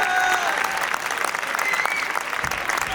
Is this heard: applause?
yes